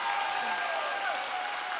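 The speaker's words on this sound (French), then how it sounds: "je vous laisse applaudir, pardon." Applause from the crowd at an amusement park pass event, dense and fairly loud clapping throughout, with a few voices and a whistle-like tone mixed in.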